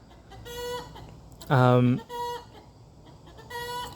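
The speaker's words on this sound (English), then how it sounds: "Oh, the chickens are going off a bit." Chickens in their clean pen cluck and squawk in short bursts, with one louder, longer cackling call in the middle, all close by and clear.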